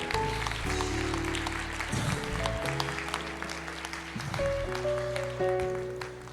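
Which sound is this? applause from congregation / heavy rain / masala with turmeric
applause from congregation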